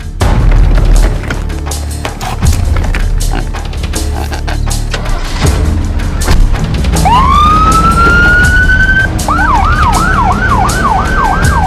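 A loud siren wails over heavy rumbling traffic noise, first a rising tone, then a rapid repeating yelp pattern.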